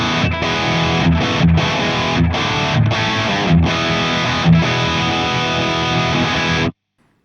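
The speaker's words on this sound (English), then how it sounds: "this is what the original Captor X sounded like when you would plug your amp" Distorted electric guitar played through an amp into a Two Notes Captor X load box, loud chugging chords with several short rhythmic breaks, then an abrupt cut to silence.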